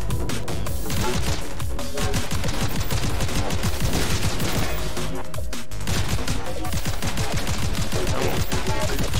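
Gunfire in the Seraph rogue-like shooter video game, dense rapid bursts of shots and crashing impacts over loud game music, relentless and close throughout.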